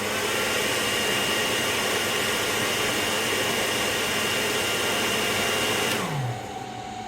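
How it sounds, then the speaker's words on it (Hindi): A hair dryer runs on a Sorotec 1200 W solar inverter, blowing with a loud, steady whoosh and hum that stays level for several seconds, then cuts off, leaving its pitch sliding down as it spins to a stop. "अब मैं इसके ऊपर हेयर ड्रायर चलाने लगा हूँ"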